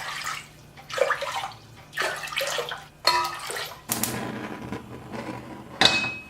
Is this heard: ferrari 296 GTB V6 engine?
no